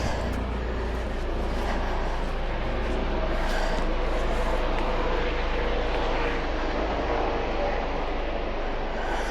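Steady, loud rotor and engine drone of a helicopter passing close overhead a forest hiking trail near Portland, filling the whole stretch without letup.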